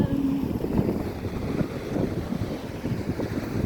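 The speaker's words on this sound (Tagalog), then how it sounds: "Ang hangin." Wind blowing at the seaside on a road where cows cross, buffeting the microphone in low rumbling gusts that rise and fall steadily, with no talking.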